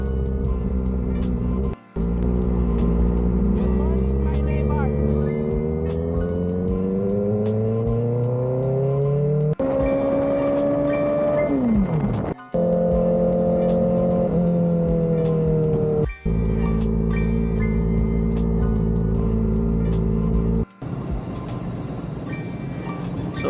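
A Kawasaki ZX-4RR motorcycle engine on an early morning ride climbs steadily in pitch through repeated gear changes, each shift marked by a short dip, with steady wind and road noise throughout.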